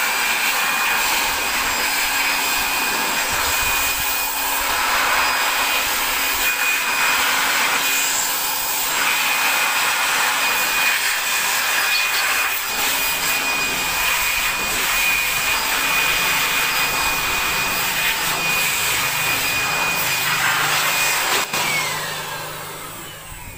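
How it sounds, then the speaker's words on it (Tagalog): An air blower roars steadily as it dries the alternator in a Toyota Avanza engine bay: a loud, continuous rushing hiss with a faint whine, close up and unbroken for the whole stretch. "At i-blower nyo ulit yung alternator"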